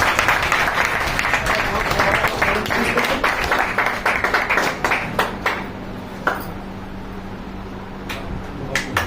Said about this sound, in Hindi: भैया तालियां बजती रहेंगी, अच्छा लगता है।